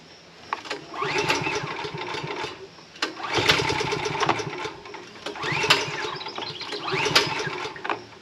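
A small gas engine, apparently a pull-start type, is cranked in three separate bursts of rough sputtering. Each attempt runs about two seconds and fails to catch into a steady idle.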